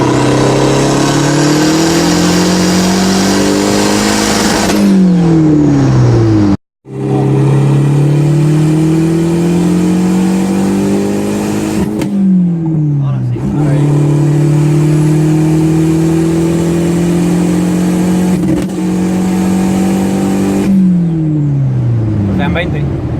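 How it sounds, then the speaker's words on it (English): A tuned car with DiabloSport tuning and 28 psi of boost pulls hard through third gear, its engine note climbing loud and steady across repeated rising sweeps, broken by a brief cutout and shifts; no one speaks. "Third gear pull."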